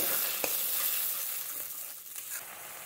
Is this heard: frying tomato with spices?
yes